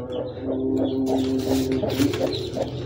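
Soft, rhythmic cooing of a slate-grey pigeon repeats steadily at close range, a low throaty call pulsing several times over a faint hum of background noise.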